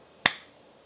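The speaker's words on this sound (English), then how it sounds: "So when I am clapping" A single sharp hand clap rings out alone and close, a crisp isolated crack with a quick decay into quiet.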